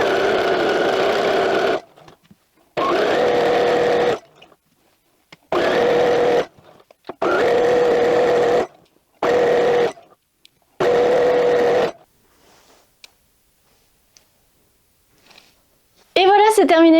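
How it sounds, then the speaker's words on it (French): Sewing machine stitching a fabric hood for Viking live-action role-play, running loud and close in about six bursts of a few seconds each with short pauses between, then quiet at the end. "maintenant c'est l'heure de coudre tout ça"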